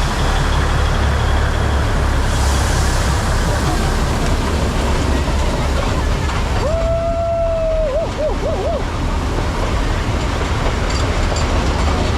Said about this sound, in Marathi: ओ ट्रेन आली ट्रेन आली